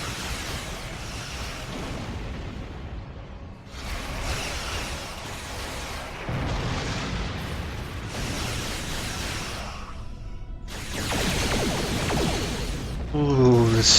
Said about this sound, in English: Quad phasers go!